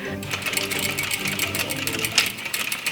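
A sewing machine runs steadily, stitching 18th century gathered trim close to the fabric edge, its rapid needle rhythm a dense even whir heard up close for a few seconds without pause.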